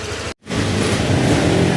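A steady Honda motorcycle engine idling close by after water pump work, a continuous low rumble after a brief moment of silence, with no voices.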